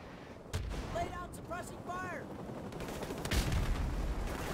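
Gunfire crackles through a Call of Duty: Modern Warfare Remastered battle at a TV station, with sharp rapid shots and bursts, a few ringing tonal effects, and a heavier crash near the end beneath voices talking.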